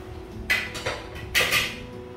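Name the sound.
lid being removed from pressure cooker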